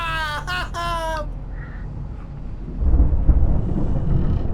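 Storm thunder in the video game Alan Wake comes in partway through as a deep, heavy rumble that swells and keeps rolling. A short voiced cry comes just before it.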